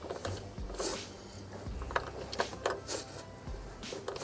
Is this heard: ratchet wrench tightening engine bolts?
yes